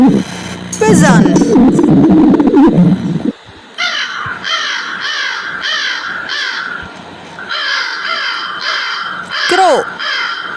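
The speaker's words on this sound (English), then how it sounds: "Crow." A crow caws in repeated harsh, rhythmic calls in bursts of several, clear and fairly close, after an opening stretch of louder mixed noise and a voice.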